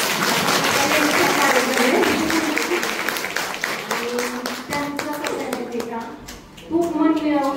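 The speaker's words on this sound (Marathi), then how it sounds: "त्यांच्यासाठी खूप जोरात टाळ्या होऊन जातो" An audience at a women's health and CPR training event in Sawale Auditorium, Barshi, claps loudly, a dense roomy applause that thins out midway as voices talk over it, then swells briefly again.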